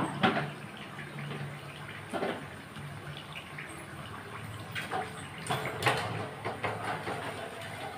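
Water pours and splashes into a pot while ghee is being made, a soft continuous trickling with occasional louder splashes close by, no talking.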